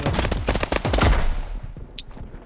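Rapid bursts of video game gunfire, dense automatic shots crackling for over a second and then tapering off, with a few sparse shots and a sharp click near the end.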